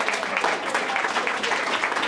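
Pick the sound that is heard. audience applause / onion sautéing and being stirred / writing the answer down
audience applause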